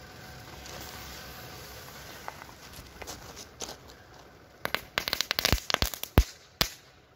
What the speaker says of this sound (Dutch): Ze hebben nieuwe knetterballen.